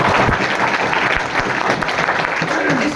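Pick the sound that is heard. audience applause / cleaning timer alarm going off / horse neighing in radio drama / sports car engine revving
audience applause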